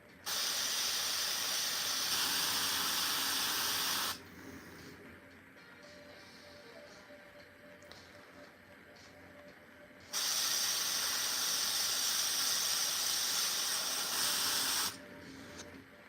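An airbrush sprays paint onto a Warhammer miniature in two steady hissing bursts of about four seconds each, separated by a quieter stretch of low background hum.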